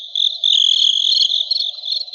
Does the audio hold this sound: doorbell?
no